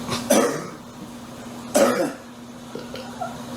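Two loud, close coughing bursts about a second and a half apart, followed by smaller throat sounds over a low constant hum.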